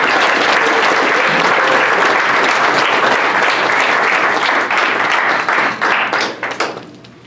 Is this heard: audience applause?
yes